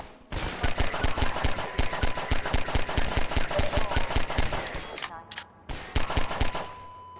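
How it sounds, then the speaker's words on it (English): Mounted turret gunfire in a video game, rapid sustained automatic bursts hammering at breakable crates, loud and continuous with a brief pause before firing resumes. "The turret firing at the breakable crates behind teaches players not to take the threat head-on"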